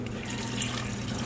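Water runs steadily into a bowl of cupcake mix during a home baking contest, a short continuous trickling pour heard close up with no voices.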